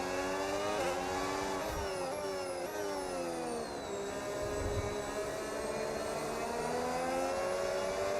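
Race car engine in an F1 racing video game, a sustained high-pitched whine rising and falling through gear changes with a few quick upshifts early on, loud and steady throughout with no talking.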